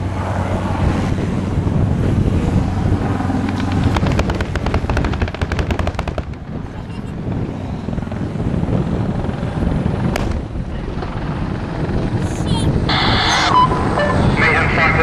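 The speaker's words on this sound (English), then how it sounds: "This is gunship engaged with missiles, rockets and gun, all targets destroyed." Attack helicopter gunship at an air show firing its gun in a display, rapid bursts of gunfire over heavy wind noise and loud rotor rumble.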